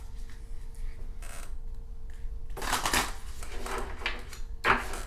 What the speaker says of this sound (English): So I am going to shuffle them 3 times, split them into 2 piles, and pick the 2 cards off the top.